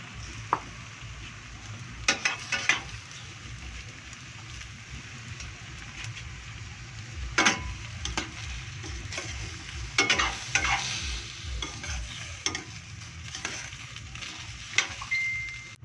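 String beans and shrimp being stirred in a sizzling pan for ginataang sitaw, a steady frying hiss under irregular scraping strokes, with sharper clatters every few seconds.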